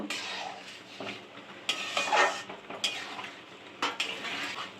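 A spoon stirs pigeon pea dal malai curry in a pan, scraping and clinking against the metal in uneven strokes with a soft sizzle underneath, close and steady, without speech.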